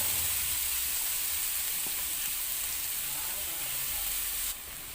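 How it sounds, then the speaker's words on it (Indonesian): Spice paste sautéing in oil left over from frying chicken, a continuous bright sizzle and hiss held steady close up, dropping slightly at the end, with no talk. "Tumis bumbu hingga benar-benar matang supaya enggak langu."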